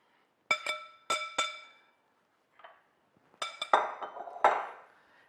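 Oatmeal mixture for chocolate chip baked oatmeal is poured into a glass casserole dish, giving sharp ringing clinks in quick pairs, then a pause, then more clinks mixed with wet scraping and plopping, close and fairly quiet.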